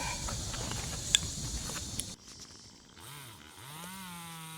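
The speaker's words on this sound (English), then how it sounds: "working with chainsaws, you want to be careful" A chainsaw roars loudly for about two seconds, then cuts off, leaving quieter, wavering tones behind.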